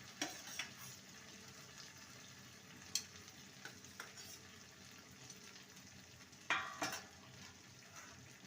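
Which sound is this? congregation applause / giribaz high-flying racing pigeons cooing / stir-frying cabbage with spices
stir-frying cabbage with spices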